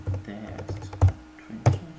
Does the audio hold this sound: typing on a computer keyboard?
yes